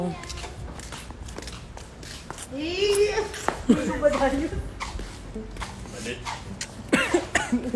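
A child coughs a few times amid nearby talking, with rough, throaty bursts standing out over the voices.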